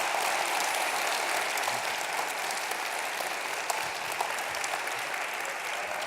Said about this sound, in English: Please join me in a round of applause for the work they've done.